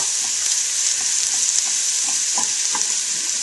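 Bits caramelizing with Splenda in a pan give off a loud, continuous sizzle with small popping spatters scattered through it, steady from start to finish.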